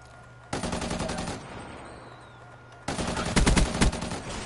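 Automatic gunfire in a first-person shooter game, two loud, close bursts of rapid shots, each lasting about a second, separated by a short quiet gap.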